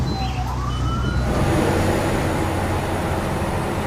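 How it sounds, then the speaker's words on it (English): A loud police siren wails steadily close by, first rising in pitch and then holding a continuous wail over broadband road and engine roar from a fast-moving car, with no talking. "Hold on, I hear a siren."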